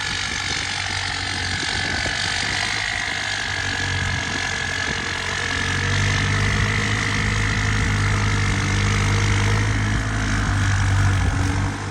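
A turbocharged pickup engine with an M60 turbo idles steadily with a low, rumbling drone and a faint whine on top, close and continuous, with no speech.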